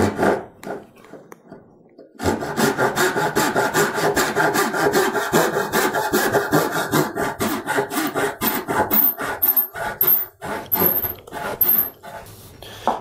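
A hand saw cuts down through a wooden stretcher for a dovetailed side table while the piece is clamped in a vise. Steady, rhythmic rasping strokes sound close and clear after a few opening scrapes.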